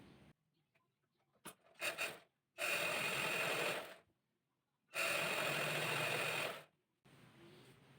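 A sewing machine stitches the folded-over sleeve hem of a chudithar, in two long steady runs of rapid whirring separated by pauses, with a few short bursts beforehand.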